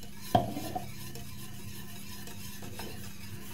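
A spoon clinks once against a pot, then stirs milk into macaroni and cheese with soft, wet scraping and a faint background hiss, close and quiet with no voices.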